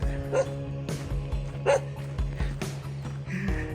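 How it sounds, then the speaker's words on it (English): Several dogs barking in a rural Thailand setting, with repeated sharp barks and yips at close range over a steady background hum, continuing throughout. "freaking dogs"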